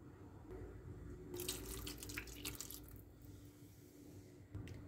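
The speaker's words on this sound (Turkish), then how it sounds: "Şimdi yemeğimizin suyunu ekliyoruz." Hot water is poured into a cooking pot of olive-oil braised Brussels sprouts, giving a soft splashing, faucet-like stream for a few seconds, faint and close, with no talk.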